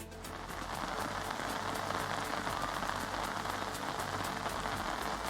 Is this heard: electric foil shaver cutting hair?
no